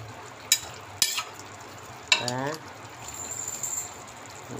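Chicken and papaya sauté in a pan, a soft, steady sizzle broken by a few sharp clinks and scrapes of a utensil against the metal, all fairly quiet.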